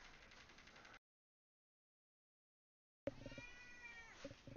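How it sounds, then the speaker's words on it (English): A house cat meows and yowls insistently for a back scratch, two close, loud bursts of calls separated by a couple of seconds of silence, with no talking. "Hear probably cat yelling at me to scratch his back."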